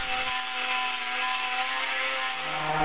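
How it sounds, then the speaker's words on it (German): An angle grinder with a sanding disc grinds rough oak slab boards for a wood-heated hot tub bathhouse, a loud steady rushing whir with a constant tone, close by, running alone without talk. "Die grobe Vorarbeit leistet dabei die Flex mit dem Schleifteller."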